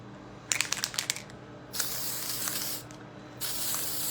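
An airbrush sprays edible pearl luster dust color onto a 3D gift box cake, a bright steady hiss in several bursts: short stuttering puffs first, then two longer continuous sprays separated by a pause, with no talk.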